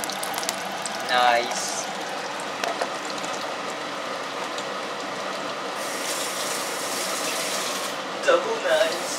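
Food frying in hot, bubbling oil for a rice soup, with a continuous crackling sizzle throughout and a brief spoken word near the start.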